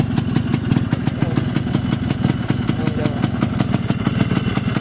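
A Yamaha RXS115 motorcycle idles steadily with a rapid, even two-stroke putter, close and continuous throughout.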